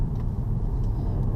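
Engine of a 2015 Peugeot 308 GT Line car rumbles steadily and low inside the cabin while it parallel parks, an even, continuous drone with no talk.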